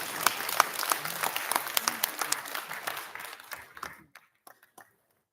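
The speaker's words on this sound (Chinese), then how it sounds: "我们以热烈掌声恭喜！" An audience at a conference opening ceremony in Sydney claps loudly and fast for about four seconds, then the applause thins to a few scattered claps and fades out.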